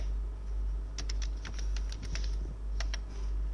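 Quick, close clicks of a computer keyboard as a website URL is typed, bursts of keystrokes over a steady low electrical hum, no voices.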